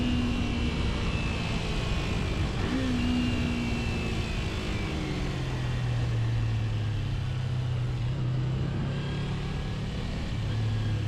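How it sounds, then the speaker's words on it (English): A 2006 Kawasaki Ninja 250 motorcycle engine revs at full throttle while accelerating, a steady droning whine whose pitch climbs gradually and stays fairly even in loudness throughout, with no voices. "You got the accelerator all the way turned and you hear the revs spurring up"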